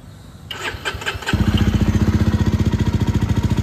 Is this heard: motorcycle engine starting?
yes